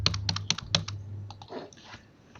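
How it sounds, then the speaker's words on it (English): Computer keyboard keys clack in a quick run of crisp, close taps, then a few softer scattered presses trail off into quiet. "So I press escape on keyboard to hide it,"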